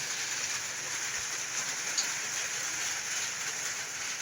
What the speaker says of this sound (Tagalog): Ang lakas-lakas ng ulan mga guys.